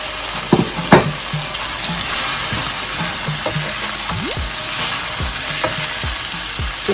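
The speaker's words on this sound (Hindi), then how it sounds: "30 सेकंड मैंने सब्जियों को भून लिया है।" Vegetables for hakka noodles are stir-fried and tossed in a hot pan. A loud, steady sizzle runs under sharp clanks and scrapes early on and repeated tossing and stirring sounds later.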